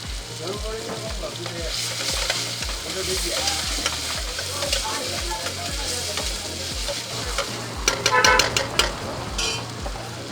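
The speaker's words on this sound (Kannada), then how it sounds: "ನೋಡಿ, ಪ್ರಾನ್ಸ್ ಹಾಕ್ತಾ ಇದ್ದಾರೆ." Prawns fry in a pan at a seafood stall at Bandar Chowk in Diu, giving a loud, steady sizzle with rhythmic stirring thumps and a burst of metallic clinks near the end, with no speech.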